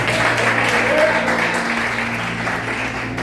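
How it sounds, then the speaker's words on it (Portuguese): A church congregation applauds together in praise, a steady wash of many hands clapping under a low, constant hum from the sound system, with faint voices mixed in. "Pode aplaudir e glorificar o Senhor"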